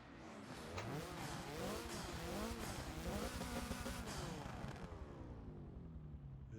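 Race car engines in the Forza racing game, a Hoonigan Focus among the field on the Lime Rock track at the race start, revving loudly with layered rising and falling engine tones that sweep up and down together before fading slightly.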